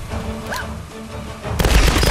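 A grenade blows up on the ground in the Tomb Raider video game, a sudden loud, broadband blast with a rumbling tail that cuts in late, after a stretch of quieter game ambience.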